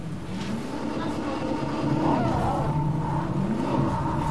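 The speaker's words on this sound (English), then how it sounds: "I can hear a car or something." A car engine in the Fortnite video game drones steadily in the background, a continuous low rumble that grows slightly louder midway through, with no clear voices over it.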